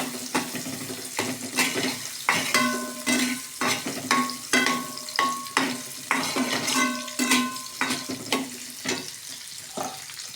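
Chopped onion goes into a pan with green chilies and ginger for wheat-flour Maggi noodles, sizzling over high heat. Repeated stirring scrapes and clatters against the pan in an uneven rhythm above a bright frying hiss, with no talking.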